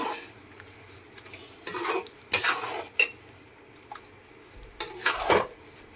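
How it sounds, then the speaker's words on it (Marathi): Bottle gourd halwa being stirred in a pan: a utensil clinks and scrapes against the metal in a few quick, close strokes between quiet gaps, no voices. "आणि हे ना आता चांगलं हलवून घ्यायचं आहे। व्यवस्थित मिक्स करून घ्यायचं।"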